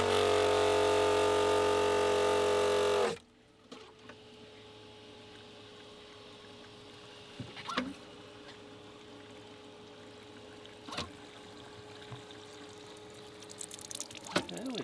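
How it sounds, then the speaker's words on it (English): A newly installed Schenker watermaker starts up with a loud, steady mechanical rush of pumping and pouring water for about three seconds, then drops to a faint hum with occasional soft knocks. "we've got water coming out of the discharge hose"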